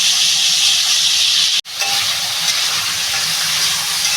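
Cucumber peel frying in hot oil makes a loud, close, continuous sizzling hiss, interrupted once by a momentary dropout, with no talking.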